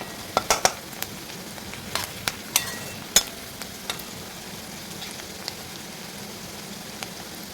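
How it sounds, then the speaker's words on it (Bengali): Onions with chopped chillies frying in a pan while being stirred into a curry of potatoes and peas, giving a soft steady sizzle broken by scattered louder pops and crackles, with no talking. "আমি পেঁয়াজটাকে একটু লাল লালভাবে ভেজে নেবো।"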